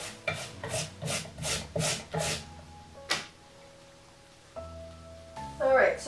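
Potatoes rubbed against a hand grater over a measuring cup, giving about six quick rasping strokes in a steady rhythm up close, then a pause with faint background tones and a brief scrape near the end.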